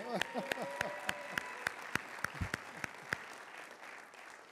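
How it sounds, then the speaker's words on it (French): A church congregation applauds for Séverin and his partner, steady moderate clapping with a few distinct sharp claps standing out, voices faintly mixed in. "On applaudit bien fort Séverin et sa compagne."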